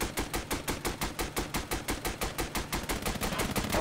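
Rapid automatic gunfire from the VR shooter Time Carnage, a steady train of sharp, evenly spaced shots at roughly five per second, loud and continuous with no talk over it.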